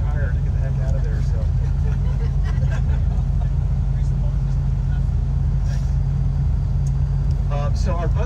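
A tour bus engine drones steadily during a ride, a loud, constant low rumble from inside the cabin, with people talking over it at intervals.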